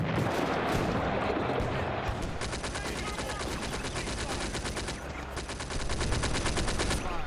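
Sherman tanks firing on German troops near a farm in Combat Mission: Afrika Korps, with dense, continuous gunfire and rattling machine-gun bursts over a rumbling background, fairly distant and steady.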